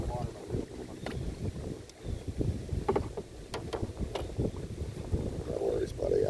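Wind gusts buffet a boat out on a reservoir, a steady broadband rush with microphone rumble and occasional knocks, continuous and fairly loud with no voices.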